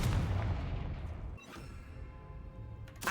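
A Confringo fire curse in Hogwarts Legacy goes off as a loud, close explosive boom, followed by a decaying rumble and a second, sharper crack near the end.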